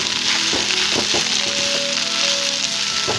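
Jackfruit seed and chickpea bhaji cooking in oil in a pan makes a constant close hiss of sizzling, broken by a few soft pops and crackles.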